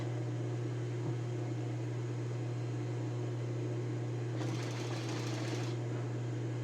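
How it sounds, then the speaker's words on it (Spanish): A sewing machine stitches the facing onto a blouse collar with a steady, close motor hum and fast needle drone, briefly joined by a brighter rushing sound near the end, with no talk. "solo dejar que la máquina vaya cosiendo y yo voy guiando la cinta al pie"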